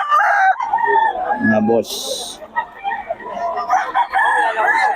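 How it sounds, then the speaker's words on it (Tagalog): Roosters in a fighting-cock breeding yard, with a crow rising briefly amid near-constant talk from people nearby. "Solid yung mga manok"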